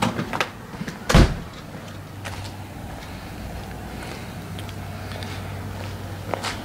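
The back door in the middle of a house bumps open or shut with one loud, close thud, followed by a low steady hum and faint footsteps.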